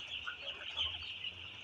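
Six-day-old broiler chicks cheeping and clucking in a brooding house, a dense chorus of high peeps filling the short stretch, no voices.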